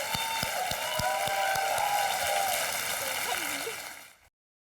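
Studio audience clapping for a contestant on the Kaun Banega Crorepati quiz show stage, a dense, sustained wash of applause with music over it that fades out at the end.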